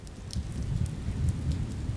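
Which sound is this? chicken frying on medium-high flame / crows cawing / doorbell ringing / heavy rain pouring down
heavy rain pouring down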